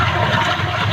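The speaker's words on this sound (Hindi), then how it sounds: "ये बोरिंग है, इसमें पूरा का पूरा पानी नीचे जा रहा है।" Rainwater pours down a borewell into the ground in a loud, continuous rushing roar that stays steady throughout.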